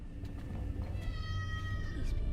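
A cat meows in a movie scene, giving a single drawn-out, tonal meow over a soft background of low rumble and faint scene noise.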